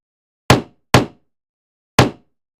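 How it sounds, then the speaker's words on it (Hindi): Three sharp knocks land on a house door, two in quick succession and a third after a short pause, each crisp and close with a brief decay, alone against silence. "उनके घर पर दस्तक होती है।"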